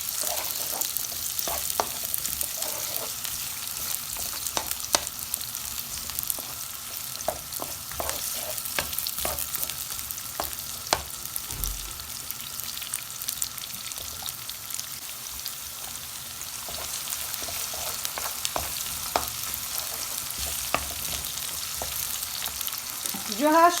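Onions sizzling and frying in a pan while being stirred, a steady close crackle with frequent scraping clicks of the utensil throughout.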